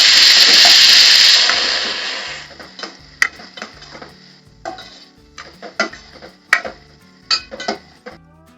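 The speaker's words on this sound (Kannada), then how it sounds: "ಸೊ ಈಗ ಈರುಳ್ಳಿ ಹಾಕ್ತಿದ್ದೀನಿ. ಸೊ ಲೈಟ್ ಬ್ರೌನ್ ಆಗೋ ತನಕ ಫ್ರೈ ಆಗಬೇಕು" Chopped onion hits a hot pan with a loud, broad sizzle that fades over two seconds, followed by a string of sharp clinks and taps from a spoon stirring against the pan, with no voices.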